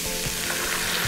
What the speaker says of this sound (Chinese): 稍微煸炒一下呢